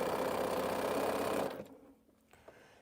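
A sewing machine stitches a quilt, a loud close whirring run that stops abruptly partway through and leaves a quiet room with faint small clicks.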